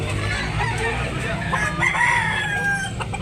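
Chickens and roosters crowd a chicken market in Tabunok, Talisay, Cebu, with roosters crowing and birds clucking in a steady, loud mix, people talking underneath.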